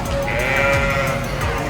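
Sheep bleat at the Kentucky State Fair, with one drawn-out bleat standing out over a busy, noisy barn background.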